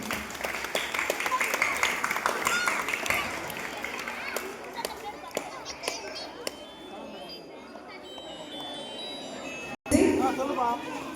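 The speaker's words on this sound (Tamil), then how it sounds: "கரகோஷம் இருந்தால் நன்றாக இருக்கும்" An audience at a government music school's summer training closing ceremony breaks into scattered clapping that thins out, then swells into a brief louder burst near the end, with voices and children's chatter mixed in.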